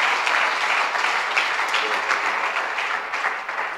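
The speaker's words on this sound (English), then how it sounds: "Can we give a clap offering?" An audience at a church question-and-answer session on finance and leadership claps steadily throughout, a dense, sustained round of applause that holds its level and then begins to taper toward the end.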